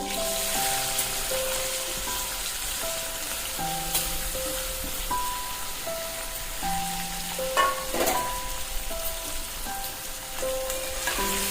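Chopped raw ivy gourd (tondli) frying in a pan, a loud steady sizzle and crackle with occasional stirring scrapes throughout, close and continuous.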